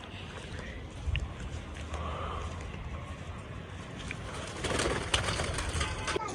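Pet pigeons coo softly amid a rustling, breathy background, the low calls rising and fading with a few louder flutters or knocks, as if close to a loft where the birds are kept.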